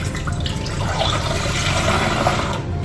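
Water mixed with milk is poured into a teapot, a steady splashing, trickling stream heard up close and fairly loud for about three seconds, with no voices.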